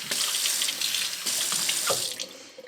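Tap water runs into a sink while a tea-brewing vessel is rinsed for green tea kombucha, a close, steady splashing stream. Sharper splashes break through as the flow is disturbed, then it thins out at the end.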